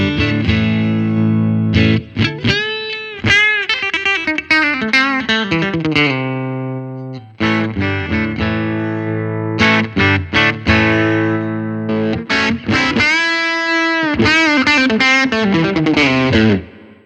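A distorted electric guitar plays sustained chords and bends through a Line 6 POD GO with lead boost, loud, with a washy '63 spring reverb tail behind the notes.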